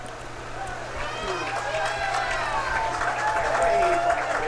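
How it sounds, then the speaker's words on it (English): A crowd at a boys' varsity high school soccer game on senior night cheers and claps for a penalty call, swelling into a building roar with shouts and whistles over a steady low hum. "Crowd appreciates the penalty call."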